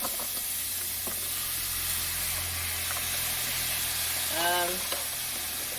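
Steady hissing sizzle of veggie broth hitting a hot pan to deglaze it, close and constant, with a brief faint voice-like sound near the end.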